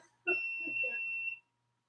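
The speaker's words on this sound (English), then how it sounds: "Something's beeping." A single steady, high electronic beep holds for about a second, loud and close, with muffled voices faintly underneath.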